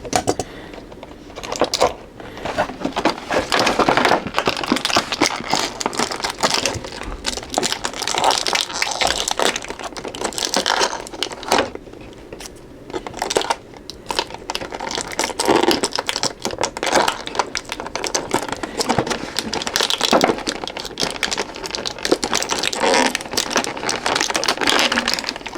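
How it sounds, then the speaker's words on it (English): Tape being cut and peeled off a McFarlane Toys Batman (1989) Multiverse figure package, a long dense stretch of close crinkling, crackling plastic and scraping with irregular clicks, no talking. "Cut these out a little bit. tape will come off real easy."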